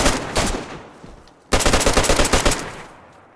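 Gunfire in the survival game DayZ: a short burst of shots, a pause with a fading echo, then a longer rapid automatic burst that rings out and decays, loud and close.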